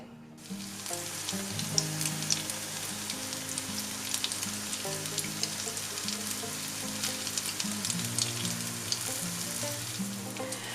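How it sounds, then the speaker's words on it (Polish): Potato pancakes frying in a pan, a steady close sizzle and crackle of oil that starts abruptly and holds for the whole stretch with no talking. "I to razem mieszamy i smażymy placuszki."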